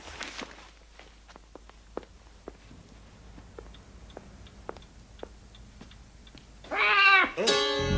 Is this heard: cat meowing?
yes